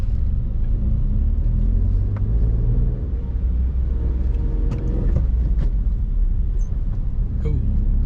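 Continuous low rumble of a car engine pulling away in first gear on a driving lesson, heard from inside the cabin with a slight rise in drone and faint road noise, no talking.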